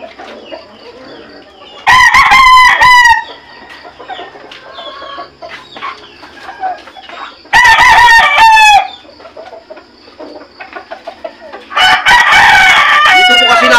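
Gamecocks crow loudly in three bursts, each a bright harmonic call of about a second, with clucking and scattered farmyard noises between them and no talk.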